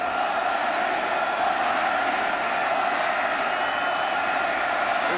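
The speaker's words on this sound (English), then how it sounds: "This homecoming crowd is making a lot of noise." A homecoming stadium crowd roars during a college football game between Virginia and NC State, a continuous, loud wash of cheering and yelling holding steady throughout.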